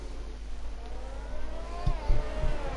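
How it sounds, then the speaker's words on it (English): Race cars in a racing video game pull away on a formation lap, one leaving the pit box, as a low engine rumble that swells slightly with a few short throttle blips near the end. "So as they roll off on their formation lap, Finley with a big puff of smoke as he leaves the box."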